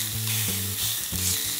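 Chili bacon hot dogs sizzle steadily on a Blackstone griddle, a close, continuous crackle and hiss with a low, humming tone underneath and no voices.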